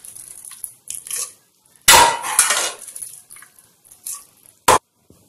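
Pots clatter as cooked dal and moringa greens are tipped into a clay dal pot: a loud burst of scraping and knocking in the middle, then scattered lighter clinks and one sharp knock near the end.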